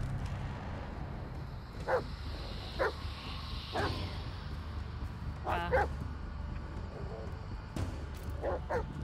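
A dog barks repeatedly at irregular intervals in the video game Blair Witch, sounding somewhat distant, over a constant low background hum.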